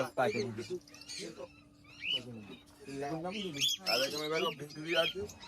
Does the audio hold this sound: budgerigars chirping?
yes